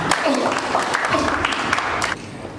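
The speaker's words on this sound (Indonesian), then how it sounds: "Kita beri tepuk tangan." Church congregation applauding during an Indonesian worship service, a dense steady wash of clapping that fills the room and cuts off sharply near the end, with voices mixed in.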